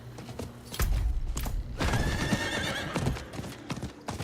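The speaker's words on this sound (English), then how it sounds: "so the game does make your horse move faster the further your cursor is away" Horse hooves clip-clopping at a gallop in Diablo 4, a steady rhythmic patter with a whinny, close and fairly loud, with game ambience behind and no talk.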